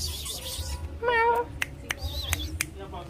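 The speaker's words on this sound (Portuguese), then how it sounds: "o gatinho da loja" A cat in a pet shop gives one clear, rising meow at close range, with people talking nearby and small shop noises around it.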